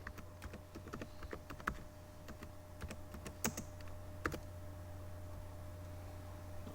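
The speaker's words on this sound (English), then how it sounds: "And I'm going to type it in" Typing on a computer keyboard, a steady run of light clicking keystrokes in irregular bursts over a low constant hum, close and fairly quiet, with no voices.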